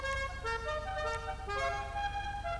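La Cucaracha musical car horn in the GTA V video game, a rapid sequence of bright, melodic toots playing the tune, loud and close with no talking.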